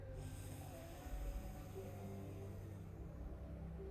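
A slow yoga inhale drawn through the left nostril during alternate-nostril breathing, a soft, steady nasal hiss that fades toward the end, faint and with no talking.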